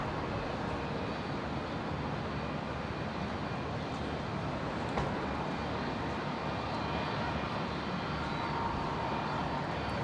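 Jetstar airliner lining up on runway 19 right at Brisbane Airport, a constant low engine rumble and roar at a distance, steady and unbroken throughout.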